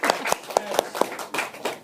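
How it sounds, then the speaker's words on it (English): Audience applause for a comedy performer at a live show: a scattered burst of individual hand claps, a few sharp and distinct, with loose irregular rhythm, fairly close and brief. "give him a round of applause, will you?"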